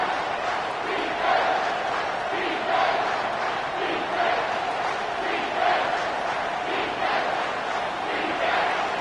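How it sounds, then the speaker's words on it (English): A video-game college football stadium crowd roars continuously, a dense wall of cheering with rhythmic swells, loud and close throughout. "The roar of the crowd trying to fuel this defense to keep them pinned in their own end."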